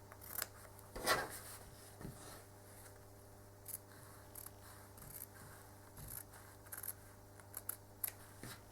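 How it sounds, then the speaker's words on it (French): Scissors snip through quilt fabric in a quiet room, slow deliberate cuts with a soft metallic click near the start and faint rubbing blade sounds afterward, no talking. "vous reprenez vos ciseaux et vous essayez de toujours garder la pointe du ciseau vers le haut"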